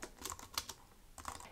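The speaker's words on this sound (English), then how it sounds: "then I'll simply go ahead and start typing." Keys tapped on a computer keyboard while entering text into a landing-page editor, coming in quick short bursts of clicks with a pause in the middle, close and fairly quiet.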